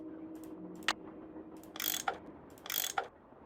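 Tool unscrewing bolts in the Nancy Drew game Last Train to Blue Moon Canyon, a few separate ratcheting clicks and two longer grinding mechanical turns, close and clear over a low hum.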